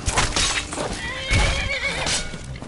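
A horse in the Skyrim video game neighs loudly and close, a long shaky whinny over about two and a half seconds, with hoof clip-clops and game ambience underneath.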